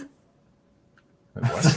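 Near silence, then a sudden loud, sharp snort from a dog close up, bursting out abruptly and continuing briefly.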